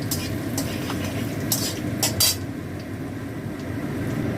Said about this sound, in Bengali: এই পটল ভাজার তেলে আমি জিরেটা ফোড়ন দিলাম